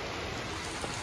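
Monsoon rain falls steadily in a village. It sounds like an even, soft hiss of drops on surfaces with no talk.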